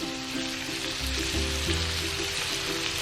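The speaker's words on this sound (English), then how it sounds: "Get that sizzling going." Steady crackling sizzle of scallops frying in a hot pan, continuous and close, with a faint low hum in the background.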